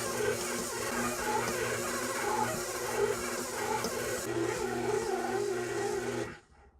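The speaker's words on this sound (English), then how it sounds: "I'm going to let it run for another 2 minutes. Just to knead this dough for us." A stand mixer kneads stiff cinnamon bun dough, its motor running in a steady, loud drone with a rhythmic thumping pulse from the dough hook, then cutting off abruptly near the end.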